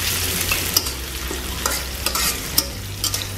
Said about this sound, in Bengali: এখন আমি পেঁয়াজ কুচি দিয়ে দিচ্ছি